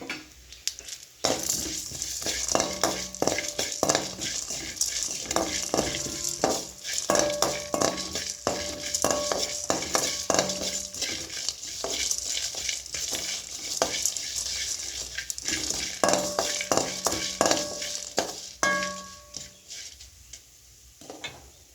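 Coriander seeds, cumin and pepper frying in oil, with a steady sizzle and repeated stirring and scraping of a spoon against the pan, continuous and close.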